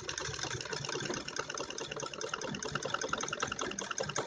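A sewing machine stitches along the edge of kurti fabric while fitting a back zip, producing a continuous close mechanical whirr that holds steady throughout. No one talks.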